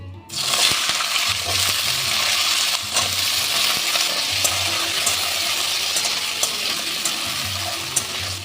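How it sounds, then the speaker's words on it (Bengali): Cut potatoes fry in hot oil with a salt sprinkle and cumin, a steady loud sizzle running throughout with occasional stirring scrapes and clinks, no voices. "এই যে কেটে রাখা আলুগুলো আমি ভেজে নেবো"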